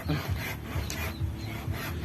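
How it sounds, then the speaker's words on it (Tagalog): Hand saw cutting while a Bicolano itak blade is being made, giving a rhythmic series of rasping strokes about four per second, close and fairly loud with no voices. "yun lagari na guys lagari na"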